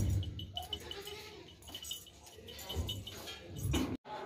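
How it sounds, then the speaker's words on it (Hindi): A hornless goat stands among other goats at a livestock sale, with bleats and farm animal noises over a noisy outdoor crowd, a few faint clinks, and a brief drop to silence near the end. "ये बकरी देखें भाई, बगैर सींगों के है, बहुत ही खूबसूरत है"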